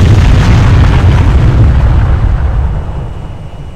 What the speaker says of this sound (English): The smart bomb will destroy all ships currently on the screen.